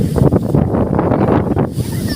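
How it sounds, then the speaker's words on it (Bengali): Strong wind buffets the microphone ahead of a storm under dark clouds, a loud, steady, close roar with gusty surges and no clear voices. "এত স্পিডে বাতাস ছাড়ছে"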